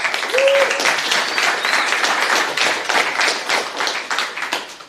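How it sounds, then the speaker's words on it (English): A room full of people clapping together, loud and dense applause that slowly tapers off toward the end. "Let's have a round of applause."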